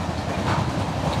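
A passenger train travels on rails on a Chennai to Sengottai journey, giving a steady, close rumble with a faint rhythmic clatter that continues evenly throughout, with no voices.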